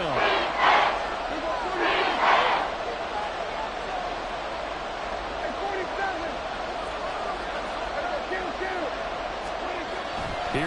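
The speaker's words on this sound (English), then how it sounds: "The Arrowhead crowd in full roar." In Madden 24, a stadium crowd roars steadily at Arrowhead. Brief louder swells rise near the start, and the crowd carries on under the game commentary.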